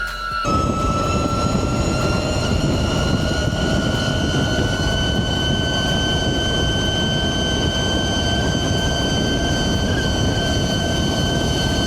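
72V Burromax XRB electric motorbike spinning on a dyno under light throttle, a loud, steady electric motor whine with layered tonal harmonics over a broad mechanical rush, holding constant throughout with no talking.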